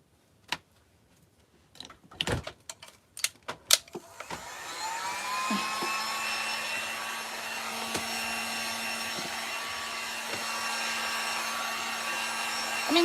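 Hair dryer drying paint on Dollar Tree wood planks: a few knocks and clicks, then the dryer starts up and runs as a steady, close whirring hum to the end.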